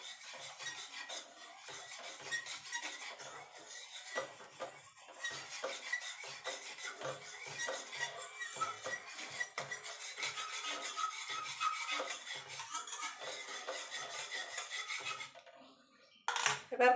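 A spoon scrapes and stirs half a cup of powdered milk in a pan on an unlit stove while making sandesh, a continuous close rasping and rubbing that runs steadily before a brief clatter at the end.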